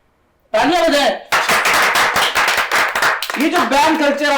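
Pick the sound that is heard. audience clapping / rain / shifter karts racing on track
audience clapping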